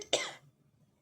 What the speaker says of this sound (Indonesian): Sampai batuk gua.